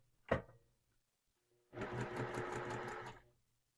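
A sewing machine stitching quilt block pieces, corner squares onto a larger center block, starts with a short single thump, then after a pause runs in a steady rapid burst for over a second before stopping.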